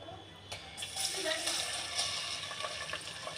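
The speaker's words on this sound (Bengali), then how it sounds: "পেঁয়াজ কুচি দিয়ে হালকা করে একটু ভেজে নেব" Chopped onions frying lightly in about half a cup of oil, a soft steady sizzle with wet crackles and stirring scrapes, starting after a brief clatter.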